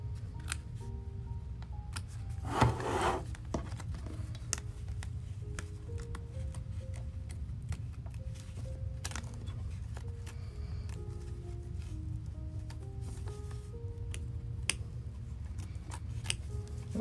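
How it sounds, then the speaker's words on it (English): Scissors trim fabric close to machine embroidery stitching, giving faint, scattered snips and soft clicks over a steady low room hum. "So now I simply turn this over and again, trim close to the stitching here."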